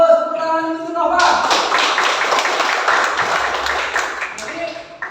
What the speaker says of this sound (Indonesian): tepuk tangan untuk Nova